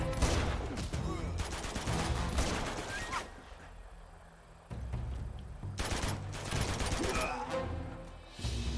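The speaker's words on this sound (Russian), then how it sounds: "Да, это взрывается, отлично." Explosions and bursts of automatic gunfire in the action game Uncharted 2, set in Borneo, loud rapid volleys cut by a short lull, then more shooting and booms, with voices mixed in.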